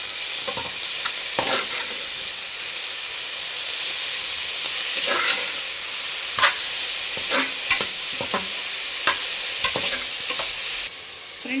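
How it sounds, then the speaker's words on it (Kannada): Fenugreek greens frying in oil with cooked onion for menthya bath, a steady broadband sizzle with scattered scraping stir strokes from a spatula against the pan, close and fairly loud, no voices. "ಇವಾಗ ಸೊಪ್ಪು ಹಾಕ್ಕೊಳ್ಳೋಣ. ಚೆನ್ನಾಗಿ ಫ್ರೈ ಮಾಡಬೇಕು ಫ್ರೆಂಡ್ಸ್ ಎಣ್ಣೆಯಲ್ಲಿ."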